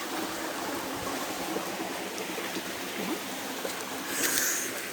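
Canal water flows past in a steady, broadband rush, moderately close and even in level, with a slightly stronger splash near the end and no voices.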